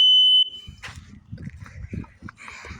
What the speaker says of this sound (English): First, a smoke alarm.